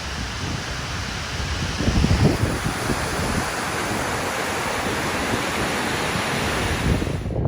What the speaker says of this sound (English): Base of the impressive middle Geltenbach Falls.